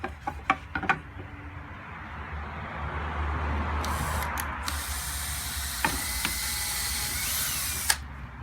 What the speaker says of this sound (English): I'll put a pilot hole here, here, here, and I won't miss the timber when I'm doing it